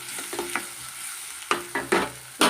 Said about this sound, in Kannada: ಸ್ವಲ್ಪ ಇದನ್ನು ನಾವು ಫ್ರೈ ಮಾಡ್ಕೊಳ್ಳೋಣ.